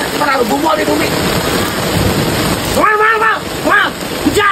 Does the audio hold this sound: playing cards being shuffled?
no